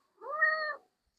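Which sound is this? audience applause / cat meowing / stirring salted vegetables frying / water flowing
cat meowing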